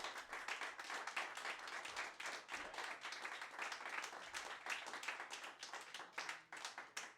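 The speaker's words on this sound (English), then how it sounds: "Big round of applause for Mr. Joey Dugan" An audience at a live stage show of the radio program Bound For Glory claps steadily throughout, a dense patter of many hands at moderate volume with no voices standing out.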